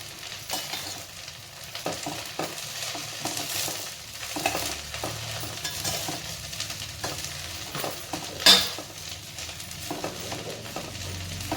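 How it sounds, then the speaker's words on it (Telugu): Spoon stirring coriander pickle in a pan on the stove, scraping and clinking strokes over a soft steady sizzle, with one sharper metallic knock near the end; no talking. "మనం ఒకసారి కలిపి మళ్ళీ మూత పెట్టుకుందాం"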